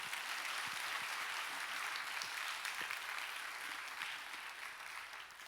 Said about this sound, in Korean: 우리 큰 박수로 맞이하겠습니다